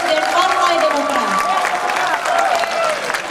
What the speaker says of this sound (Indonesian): Kita beri tepuk tangan untuk peserta konferensi calon presiden Partai Demokrat.